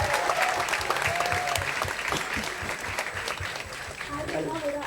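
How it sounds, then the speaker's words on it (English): Audience applause at a Bollywood promotional event for the Swachh Bharat campaign, a steady wash of clapping that runs through the whole stretch, with a voice speaking over it. "I think a round of applause to Wellinger guys."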